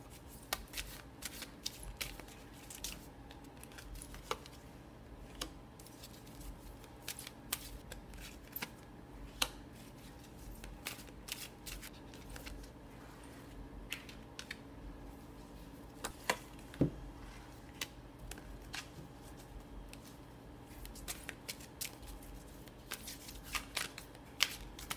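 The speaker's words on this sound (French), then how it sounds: "moi, je vais préparer le tirage en commençant évidemment par brasser les cartes." Tarot cards shuffled by hand at close range, a quiet continuous riffling and sliding with frequent sharp flicks and snaps scattered throughout, no voice over it.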